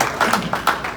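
Brief applause from a gathered audience at a small community event, a few bursts of clapping swelling and fading over about a second.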